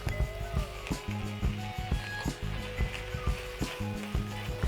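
Potatoes tumble into a pan of frying onion and garlic for bacalhau com natas, giving a soft sizzle and stirring scrapes with light clinks in an uneven rhythm.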